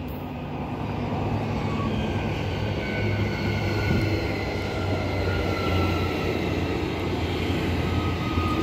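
A six-car electric train at Currambine station, led by EMU 99 with EMU 97 at the rear, gives a steady, loud, broad rumble with a faint high whine. The sound holds constant throughout with no voices.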